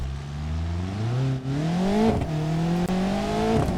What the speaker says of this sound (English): we're going to make his engine rev even a little bit higher